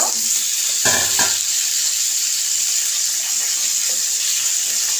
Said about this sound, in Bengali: এখন আমি মাছগুলো উল্টিয়ে দিব